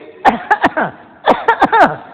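A man imitates a cough with his voice, giving two clusters of short, sharp throat bursts, three then four, each falling away quickly, close and loud with no other sound around them.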